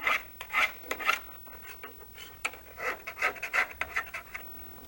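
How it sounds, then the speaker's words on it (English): A hand file rasps burrs off drilled holes in sheet metal for a manual rotary paddy weeder, producing about a dozen close, rhythmic scraping strokes in uneven bursts with short pauses between them. "Smooth down the holes by removing burrs with a file."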